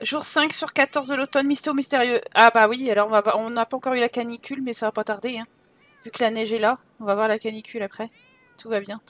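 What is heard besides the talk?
No everyday noise stands out behind the speech.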